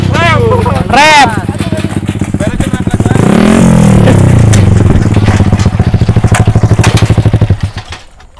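A motorcycle revs loudly up close during wheelie practice, with a sharp rising throttle blip early on and then a long sustained high rev before the engine drops back, while people talk nearby.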